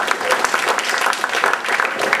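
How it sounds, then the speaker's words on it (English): A town hall audience gives a big round of applause to Los Angeles City Attorney-elect Mike Feuer, with dense, close, lively clapping filling the short stretch. "let's give another big round of applause to our City Attorney-elect"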